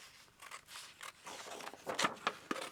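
Scissors snip through cardboard packaging at close range, with a run of quick, crisp cuts and crunches building over a few seconds, no talk.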